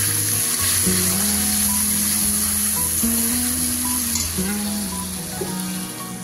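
Turmeric, salt and Kashmiri red chili powder fry in oil with a loud, continuous sizzle. A steady tonal hum runs underneath it throughout.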